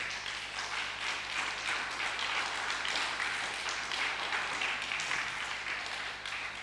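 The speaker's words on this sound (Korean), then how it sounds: "박수 받기 바랍니다." A church congregation at a Korean Sunday afternoon service in Rome applauds, steady moderately distant clapping filling the room at an even level.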